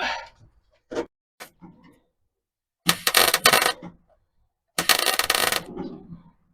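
Tack welding on a custom steel dashboard for a 1933 Chevy coupe: two bursts of crackling, sizzling arc noise, each about a second long, with a few sharp clicks and taps between them and no talking.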